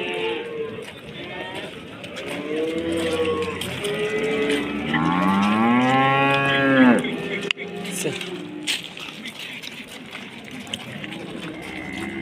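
A young cow moos at a rural weekly livestock market, one long, loud, rising-and-falling bellow close by, with people talking around it and scattered knocks and thumps afterward.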